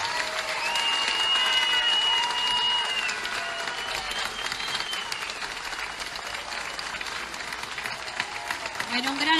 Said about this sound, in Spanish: un gran aplauso para Estefanía Díaz.